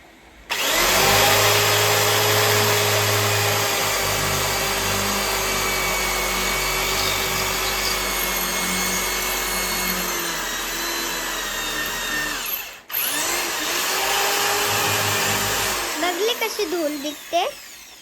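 A power drill whirs loudly in one long, steady run, cuts out briefly, then gives several short bursts as screws are driven.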